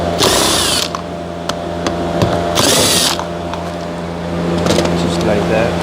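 A power drill whirs in two short loud bursts, with a third fainter burst, as it backs out the two 10 mm bolts on an Infiniti QX60 driver-side door mirror, someone talking between them.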